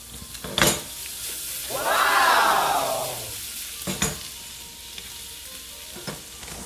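Chopped garlic for chili garlic shrimp hits hot oil in a pan and bursts into a loud, bright sizzle that swells and fades over about a second and a half, between sharper knocks and clatter from the cookware.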